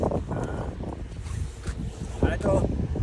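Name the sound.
wind blowing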